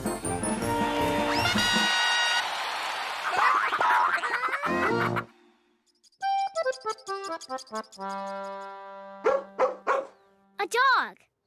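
A cartoon dog bark from an animated children's sound-guessing game, most likely a voice imitating the dog, comes in a few short, loud, bright bursts after music and playful sound effects.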